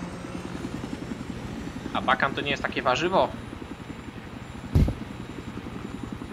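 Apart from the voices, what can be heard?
helicopter in the video game Pole Bitwy 3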